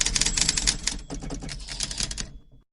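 Rapid typewriter keystrokes clatter in quick bursts for about two seconds, close and crisp, before stopping abruptly into silence.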